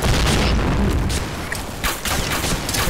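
Grenade blast in the online shooter Point Blank, a loud dense boom sitting in continuous game noise with rumbling low end and sharp bursts later in the clip.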